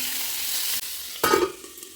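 Freshly shelled green peas are added to vegetables stir-frying in a pan for vegetable fried rice; a steady bright sizzle breaks briefly, then a louder burst of sizzling and clattering follows as the peas land, with no talk.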